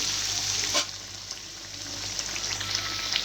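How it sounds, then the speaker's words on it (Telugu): Eggplant sizzles and crackles steadily in hot oil, with a brief clatter near the start. "నూనెలో బాగా వేగుతాయండి"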